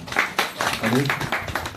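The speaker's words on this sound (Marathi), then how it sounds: "त्यांच्यासाठी टाळ्या वाजवूया" An audience claps for the organisers at a planning meeting for an event, a brief scattered burst of hand claps under and around talking voices.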